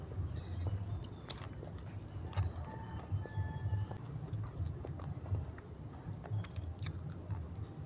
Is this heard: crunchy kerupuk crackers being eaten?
yes